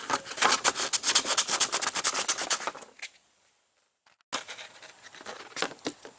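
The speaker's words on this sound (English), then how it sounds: "But let's sand it first." Hand sanding of a plastic car interior panel before fiberglass repair, a close run of quick rhythmic scrubbing strokes, a pause of near silence, then more sanding strokes.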